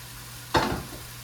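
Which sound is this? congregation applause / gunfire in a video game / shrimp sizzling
shrimp sizzling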